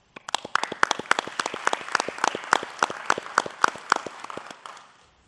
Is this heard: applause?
yes